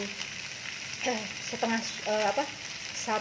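Chili flakes stirred into oil in a sizzling frying pan, a steady close hiss of frying with scraping stir strokes and brief clinks running throughout.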